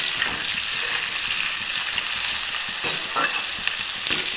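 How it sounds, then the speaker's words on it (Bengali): Onion, potato and drumstick pieces fry in a pan, giving a steady loud sizzle throughout with scraping stirring strokes, the sizzle running continuously and no voices over it. "পেঁয়াজ আলু ডাঁটা ভালো করে এবার ভেজে নেবো"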